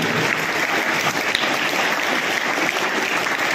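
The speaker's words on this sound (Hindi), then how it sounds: "ये तालियों की आवाज कैसे रोके?" Dense, steady applause fills a school results ceremony for the CBSE 2023-24 session, a loud unbroken wall of clapping from a large audience that holds even throughout.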